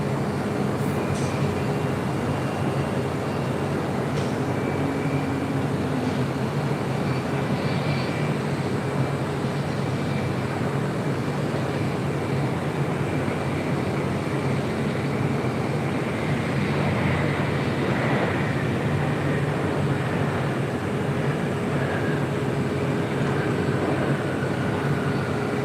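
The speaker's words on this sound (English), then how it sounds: "That was Delta Airlines Flight 482 coming in from JFK 767 at 300 ER." A Delta Airlines Boeing 767-300ER inbound from JFK lands at LAX, its steady broadband jet roar loud and continuous throughout with slowly shifting engine tones and no voices.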